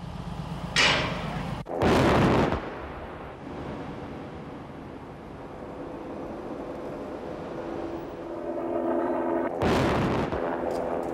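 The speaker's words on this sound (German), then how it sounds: "Im Januar 1999 wurde die alte Betonbrücke über dem Finow-Kanal gesprengt." Old concrete railway bridge over the Finow Canal on the Heidekrautbahn line demolished by blasting, heard as deep booming detonations from a distance with a long rumbling, windy aftermath and a final heavy blast.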